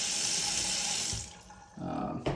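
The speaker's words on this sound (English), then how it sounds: "Got the faucet on, everything's working good." A bathroom sink faucet runs steadily, a close broadband rush of water that drops off partway through, then resumes with a brief clatter near the end; no voices.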